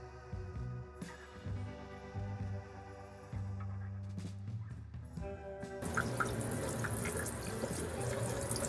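Water running down through newly connected gray water pipes in a DIY install on a Ford Transit 250 van, with scattered drips and knocks before a steady rushing flow takes over near the end.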